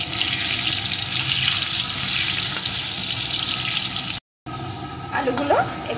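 Potato pieces salted and frying in oil in a pan give a steady broadband sizzle for about four seconds, then a brief gap, then the frying resumes with a soft stir or scrape near the end.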